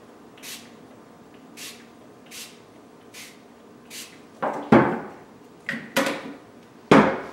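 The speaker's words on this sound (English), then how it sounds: "Take your bubble buster and spray a pretty heavy coat" A can of bubble buster sprays a heavy coat onto Lego minifigures in an oven-safe container, heard as several short, soft hissing bursts followed by louder knocks and clatter as the container is handled.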